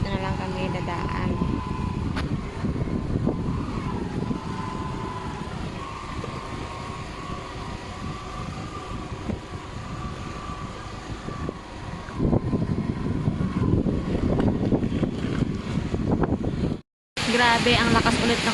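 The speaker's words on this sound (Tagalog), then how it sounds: "Grabe ang lakas ulit ng ulan and then hangin." Heavy rain and strong wind roar as a broad, steady wash of noise that stays loud and constant, with a brief cut near the end; a voice speaks over it.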